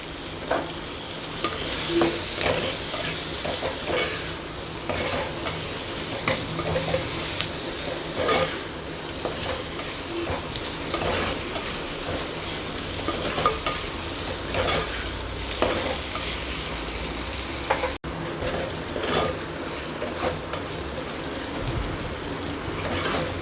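Onions and tomatoes sizzle steadily in a pan, with a dense crackling fry and frequent scraping stirs across the whole stretch, close and fairly loud with no voices.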